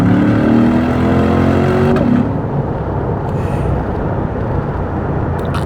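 Chevrolet C8 Corvette pulling hard in third gear from about 55 mph, engine note rising steadily under load for two seconds, then the tone drops back into a loud sustained rumble with wind noise.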